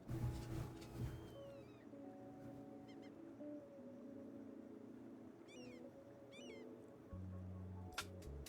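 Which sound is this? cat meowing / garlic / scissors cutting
cat meowing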